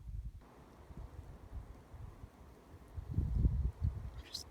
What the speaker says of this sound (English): The wind's picking up quite a bit